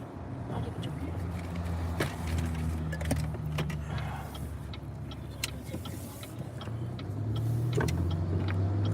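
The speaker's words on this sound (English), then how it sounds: "that's a lot of these nuts we're driving over" Car rolling over nuts scattered on the road, a steady engine and tire rumble with scattered sharp clicks and pops from the crushed nuts, under soft talk.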